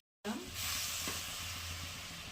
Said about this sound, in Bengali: তেজপাতা দিচ্ছি। আর তেল দেবো না, কিন্তু একটু তেলেই হয়ে যাবে